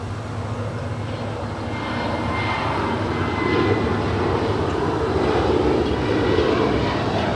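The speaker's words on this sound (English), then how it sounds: "But up first, Spirit's A320neo. 7 left, clear to land" A Spirit Airlines A320neo landing at LAX, its jet engine roar broad and continuous, swelling slightly louder midway as it passes, with no voices over it.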